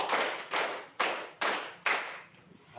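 A class clapping hands together in unison, five sharp claps spaced about half a second apart, each ringing briefly in a room, with no talk.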